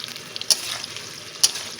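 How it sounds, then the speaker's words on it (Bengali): Potato and cauliflower fry in a pan for a labra vegetable dish, giving a steady soft sizzle with two sharp crackling pops close up. "একদম পুরো আলুটা অলমোস্ট হালকা হয়ে গেছে ভাজা। আমি এর সাথে পুরো ফুলকপিটাই দিয়ে দেবো"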